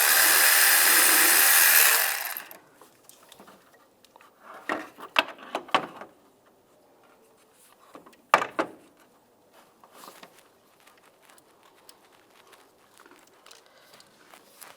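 Mechanic working on a bolt with a 13mm socket on a 1999-2005 Volkswagen Jetta 1.9 TDI; a loud continuous burst at the start gives way to scattered metallic clicks, rattles and handling noises, close and intermittent.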